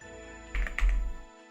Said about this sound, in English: make a giant text box and start typing.